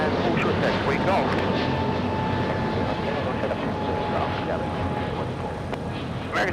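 An airliner lifts off from LAX at night, its jet engines a steady, broad roar heard from a distance, holding level throughout with a faint tonal whine above and no pauses.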